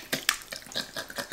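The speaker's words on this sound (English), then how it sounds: "I'm just going to pour the whole jar over the kraut." A jar of pickle liquid is poured over sauerkraut in a pork roast dish, giving a brief, uneven watery splashing and gurgling with a few small clinks, close and fairly quiet.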